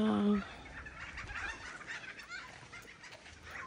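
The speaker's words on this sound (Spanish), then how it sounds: "Hay muchísimo loro." Parrots call among flowering cacti near Canberra: one loud, close squawk opens, then fainter scattered chatter from the flock carries on.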